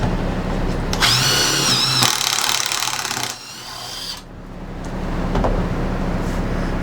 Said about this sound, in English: It never wants to make pocket screws when it is reversed, does it?